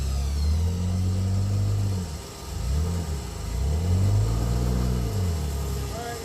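A Jeep JK on large 37-inch mud tires with a big lift revs its engine climbing a muddy off-road hill, the engine rising and falling in several loud, close surges of throttle.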